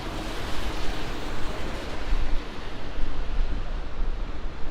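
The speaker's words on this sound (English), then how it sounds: "It's so stormy, it's so cloudy, and it's so windy out." Steady roaring storm wind in Midtown Manhattan, New York City, buffeting the microphone, a dense low rumble with gusty swells and no let-up, loud and continuous without voices.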